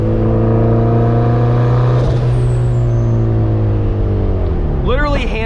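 A built turbocharged Mazda Miata making about 400 horsepower drives and accelerates, its engine droning loudly and steadily with a pitch that sweeps down, then a sharp rising rev near the end.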